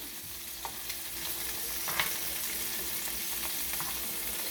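Shrimp sizzle steadily in a non-stick skillet over lowered heat while being flipped, with a continuous frying hiss and a few soft turning clicks.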